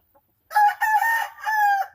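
A gamefowl bull stag rooster, about one and a half to two years old, crows once up close: a loud, drawn-out call in several strained segments, clear and alone.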